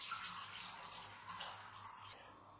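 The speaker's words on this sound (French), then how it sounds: "Donc, rincer le riz." Cold water running over rice being rinsed in a bowl, a steady soft splashing and trickling wash that stays even throughout, fairly quiet and close.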